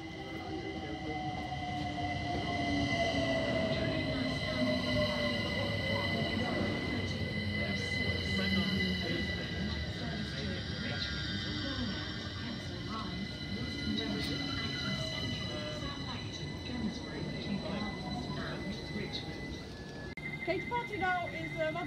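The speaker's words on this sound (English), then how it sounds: "We're arriving in now is a London Overground train going to Richmond" A London Overground train bound for Richmond rolls into Brondesbury Park station, its rumble and wheel squeal steady and close throughout. A station announcement plays over the rail noise.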